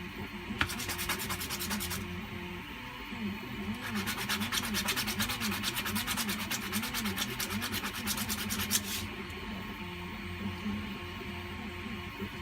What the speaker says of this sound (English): I've just given these a bit of a clean up with the file.